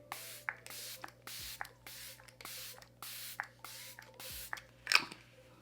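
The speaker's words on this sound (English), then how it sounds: "I'm gonna spray a little bit of setting spray." A series of short, hissing bursts of makeup setting spray, about eight evenly spaced pumps, close and fairly quiet, with light clicks between them.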